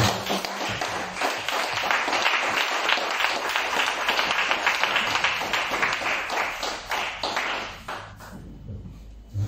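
Church congregation applauding the Lord during a Sunday service, dense sustained clapping filling the room for several seconds before thinning out near the end.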